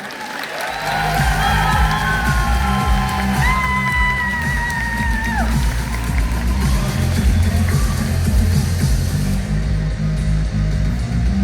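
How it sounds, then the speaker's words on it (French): Audience at a cosplay contest at TGS Pau in November 2025 bursts into loud, sustained applause with whoops and cheers for a contestant. The dense clapping runs steadily for about eleven seconds over a tonal melody. "Et on l'applaudit bien fort, s'il vous plaît."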